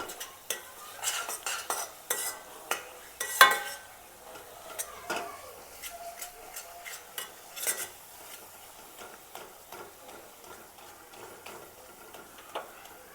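Gram flour (besan) with fenugreek leaves being stirred in a pan for methi zunka, a spatula scraping and tapping the pan in irregular clicks over a faint sizzle, close and quiet, no talking.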